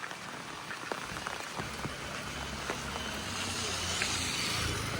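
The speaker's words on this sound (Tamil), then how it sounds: "சரியான மழைங்க." Heavy rain pours steadily at Thangassery in Kollam, Kerala, a dense, continuous hiss of drops close by with scattered louder splashes and a low rumble beneath, building slightly toward the end, with no voices.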